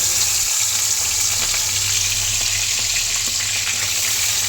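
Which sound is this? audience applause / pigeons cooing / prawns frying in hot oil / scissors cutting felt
prawns frying in hot oil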